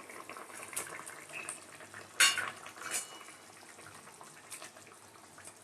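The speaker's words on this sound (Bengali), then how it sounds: "এ দেখো ঝোলটা ফুটে উঠেছে। এবার মাছটা দিয়ে দেব।" Fish slipped into bubbling curry in a cooking pot gives a brief clatter and splash, with faint metallic utensil clinks spread over a quiet, steady kitchen background.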